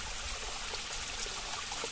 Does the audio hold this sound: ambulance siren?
no